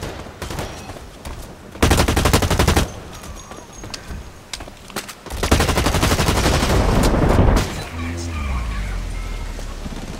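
Bursts of automatic gunfire in the shooter game Blacklight Retribution, two long loud volleys separated by quieter background, with voices talking at times.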